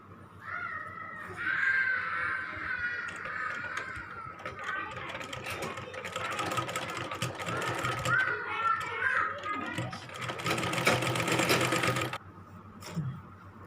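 A sewing machine stitches the side seams of a gagra skirt in long continuous runs, its steady motor whir filling most of the stretch before stopping abruptly near the end, with faint voices in the background.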